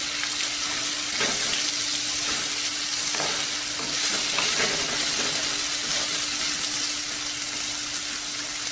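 Bitter gourd is stirred and tossed in hot oil in a pan, giving a steady, even sizzle with occasional scraping stir sounds and no talking.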